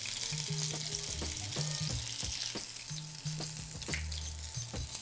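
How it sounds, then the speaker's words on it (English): Food double-fried in hot oil for extra crispness, a close, continuous bubbling sizzle with sharp crackles and pops scattered throughout, no one speaking. "So we're gonna double fry it."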